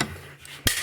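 Vice grips squeezing the plastic hand grips of a Chinese Nintendo Switch Pro controller: faint creaking and rubbing, then one sharp loud crack near the end, close up.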